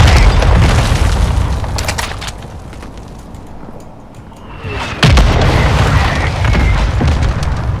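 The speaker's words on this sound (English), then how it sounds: "I got a mortar strike coming in on me." Mortar strike explosions in Call of Duty Modern Warfare, with heavy booming blasts and rumble, a sharp fresh impact midway, and dense roaring aftermath in a loud battle scene.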